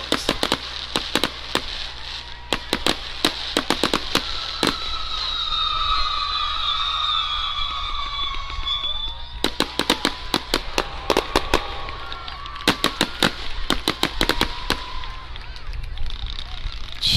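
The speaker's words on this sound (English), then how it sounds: "Fireworks tonight were donated by Max Rasmussen at Fireworks City." Fireworks at a high school football game between B-W and Ellsworth, with repeated sharp bangs in clustered bursts over a steady crowd and background noise, some pops rapid-fire and others spaced, with a whistling streak in the middle.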